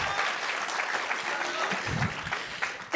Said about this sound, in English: Let them applaud.